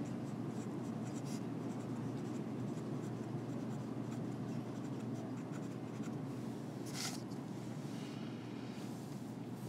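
Marker or chalk writing on a board during a biology lecture on metabolism and enzymes, a steady close scratching texture lasting throughout, with no talking.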